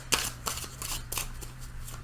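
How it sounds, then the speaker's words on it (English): Tarot cards are shuffled in several quick, crisp riffling bursts over a faint steady hum. "I'm going to shuffle these for just a second."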